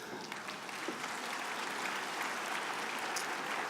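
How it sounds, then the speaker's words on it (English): An audience at a McGill University convocation ceremony applauds in a large hall, a steady, even wash of many hands clapping at once, fairly soft and without any talking over it. "you're very warmed up now and you're clapping for an evacuation speech"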